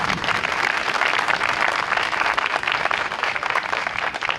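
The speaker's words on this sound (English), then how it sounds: "So give Bill a round of applause." Audience applause at a library statue dedication, dense and steady clapping from a room full of people, sustained at even loudness for the whole stretch with no talk over it.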